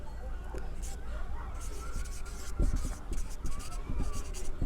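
Pen or marker scratching out notes during a concrete technology lecture, a quick run of small close strokes and taps, growing busier in the second half, over quiet room noise.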